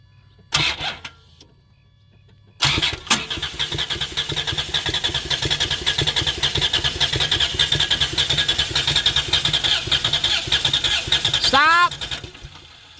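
The engine of a 1993 Plymouth Grand Voyager SE, unstarted for 18 years, is cranked with the key, giving a brief burst, then a long steady rhythmic whirring crank that cuts off near the end, loud and close, with voices around it.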